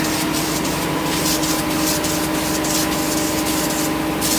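Splatter paint sprays steadily from a can onto the inside of a GM car trunk, a dense, continuous hiss that stays loud and even with slight pulsing as the coat goes on.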